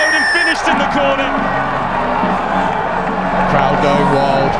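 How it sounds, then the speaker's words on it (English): Crowd roaring and cheering after a try at a university rugby match between Loughborough and Leeds Beckett, a sustained loud wash of voices and whoops with commentary-like talk running underneath. "Crowd going wild"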